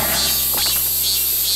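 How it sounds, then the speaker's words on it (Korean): Cicadas drone through a hot summer day on Muuido island, a dense steady high buzzing that fills the background throughout without pause, with a brief brighter rustle partway through and no talking. "매미 소리가 울려 퍼지는 무더운 여름날."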